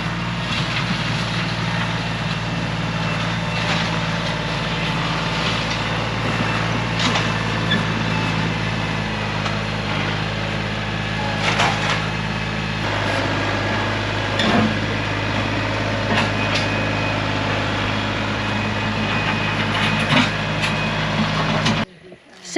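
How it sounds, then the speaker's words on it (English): Truck idles steadily nearby with a low rumbling engine drone, then pulls in outdoors amid faint background clatter, continuous and fairly loud before cutting off abruptly at the end. "there's another truck coming in."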